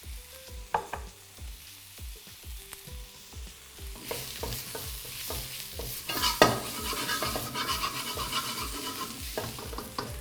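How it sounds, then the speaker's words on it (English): Onions seasoned with salt and pepper frying and browning in a pan for a savoury pancake filling, with steady sizzling and repeated stirring scrapes, growing denser and louder midway, no talking. "now the onions are starting to brown up a little bit"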